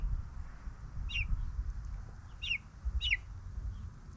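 Faint, high chirps from baby chickens in a coop, three brief peeps spaced a second or so apart, over a low rumbling background.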